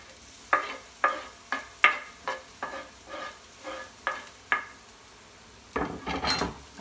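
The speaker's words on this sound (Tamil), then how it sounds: "இப்போ வந்து பூண்டு நல்லா வதங்கிடுச்சு, அதனால் நம்ம பச்சை மிளகாயும் போட்டு வதக்கலாம்." Green chillies and garlic saute in a pan, heard as a string of sharp, evenly spaced spatula scrapes and taps over a faint, soft sizzle, ending in a longer stirring scrape.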